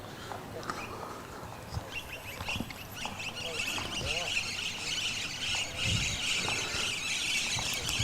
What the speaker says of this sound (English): Hear the birds in the background?